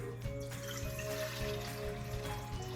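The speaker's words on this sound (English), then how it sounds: "First thing I'm going to do is add the water." Warm water poured into a large mixing bowl for bread dough, a faint, steady trickle with a low hum beneath it.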